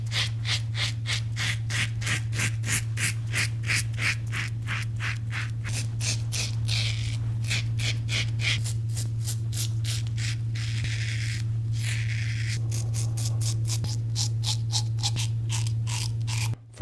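Steady rhythmic scraping strokes of a razor during a wet shave, loud and close, with a rasping texture and no talk over a constant low hum.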